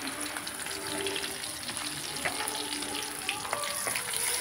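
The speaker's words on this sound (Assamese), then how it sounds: "এয়া আমাৰ চব্জিখিনি ভাজিছোঁ" Vegetables fry in oil in a pan on a gas stove at home, making a soft continuous sizzle with occasional light clinks, and no talking.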